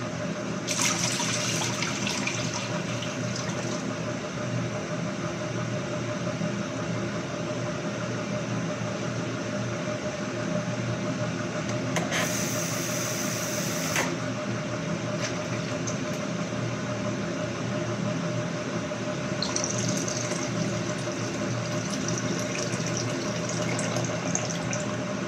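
Harissa grain washed under a continuous stream of running tap water, a steady close splashing rush throughout with brief brighter splashes, no talking.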